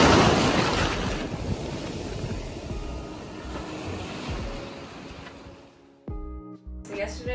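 Ocean surf washes steadily on the beach at Calella, Spain, a broad continuous roar with gusting wind buffeting the microphone, ending in a brief handling noise.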